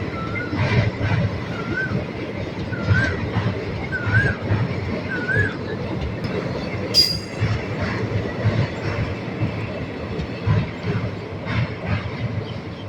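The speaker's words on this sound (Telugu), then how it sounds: "ట్రైన్ కూడా వెళ్ళిపోయింది" A train rolls over a bridge spanning the Mahanadi river, with steady rumbling wheels, rhythmic clatter and brief squeals, loud and continuous for the whole stretch, while a horn-like tone sounds now and then.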